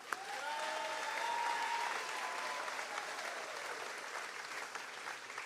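Crowd applause fills an outdoor political picnic gathering of Republicans and Democrats in Kentucky, a steady dense clapping that holds for several seconds and thins slightly toward the end, with brief tonal whistles rising early on.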